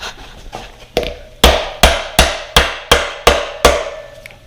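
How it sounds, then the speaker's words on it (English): A series of about eight sharp, evenly spaced plastic hammer taps during a Yamaha YZ125 motorcycle teardown, each one ringing briefly before the next, loud and close. "Plastic hammer is key."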